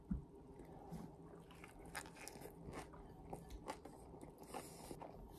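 Close, crunchy bites and chewing of a spicy taco salad with crisp pieces and soft, gooey cheese, repeated irregularly at low volume with no talking.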